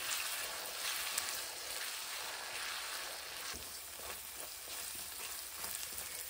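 Grated onions fry on medium heat in a pan, making a soft, continuous sizzle with faint occasional stirring scrapes and no voices.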